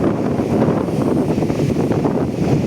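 Strong typhoon wind buffets the coast at Dinahican, Infanta, Quezon, with a boat moored nearby, roaring loudly and steadily with surf-like rushing throughout and no voices.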